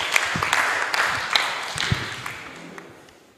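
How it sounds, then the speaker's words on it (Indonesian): Scattered clapping from high school students at a school outreach event, a few audible claps over crowd murmur that fades away toward the end. "Kasih tepuk tangan dulu"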